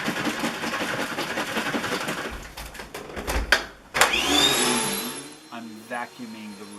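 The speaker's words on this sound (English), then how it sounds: "Vacuuming the room before I use the carpet cleaner." A vacuum cleaner runs across a room floor ahead of carpet cleaning with a Shark carpet cleaner, a loud steady motor drone that cuts out midway, followed by a whining spin-down.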